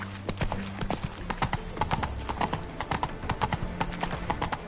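Roach, the horse in The Witcher 3, trots with steady, rhythmic hoof clip-clops close by, continuous throughout with light background game ambience.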